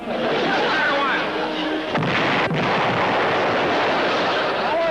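Gunshots in a colorized sitcom episode of Broadside: loud, continuous bursts of firing and blasts mixed with voices, with a couple of sharper cracks near the middle.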